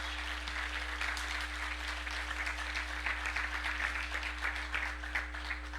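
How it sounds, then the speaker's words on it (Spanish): Church congregation clapping hands together in steady, dense applause that fills the room at an even level, with a constant low electrical hum beneath. "Dele palmas al Señor"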